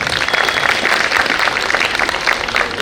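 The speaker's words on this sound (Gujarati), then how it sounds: "ખૂબ તાળીઓથી 3 કલાકારને આપણે વધાવી દઈએ." Audience applause for three performers at a literature festival stage performance, steady dense clapping from a crowd sustained at even loudness throughout, with no talk over it.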